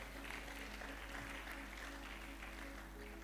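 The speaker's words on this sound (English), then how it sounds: "Clap for her." A church congregation clapping for a woman, a faint steady patter of many hands over a low background hum, continuous and without any clear voices.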